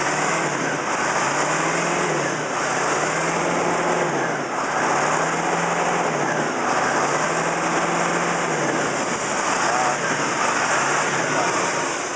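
Caterpillar 613C scraper diesel engine held at high revs, a loud, steady, continuous roar with a faint cyclic throb, close by and with no talking over it.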